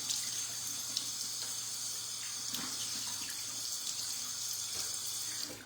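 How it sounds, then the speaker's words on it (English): Water runs steadily from a bathroom sink tap as face cleanser is rinsed off, a continuous close hiss and splash with small shifting spatters throughout and no talking. "I'm going to rinse this off real quick."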